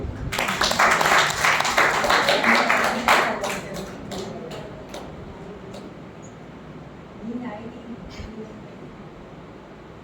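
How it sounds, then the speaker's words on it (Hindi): Seminar audience bursts into loud applause that lasts about three seconds, then thins to scattered claps and fades into a quiet room with faint background murmur. "तालियां बजा दो।"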